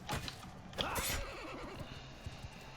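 A horse in the video game Mount and Blade 2 Bannerlord lets out a short, fairly close whinny with a quavering tail, over quiet game background noise.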